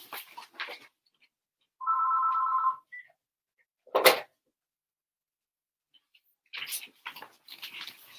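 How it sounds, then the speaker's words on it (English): A telephone gives one short electronic ring in a quiet room, between scattered voices talking softly and a brief sharp knock. "Bloody phone is ringing."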